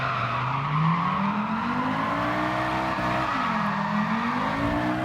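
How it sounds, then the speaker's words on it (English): Tires squeal in a sustained, rising and falling skid as an all-wheel-drive car slides sideways through a drift in Gran Turismo 7, with the engine droning steadily underneath. "I'm happy that all-wheel drive sliding is actually very good"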